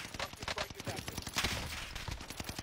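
Gunfire rattles in a Call of Duty: Warzone match, rapid bursts of shots from two teams fighting, dense and continuous across the short stretch, somewhat distant and muffled.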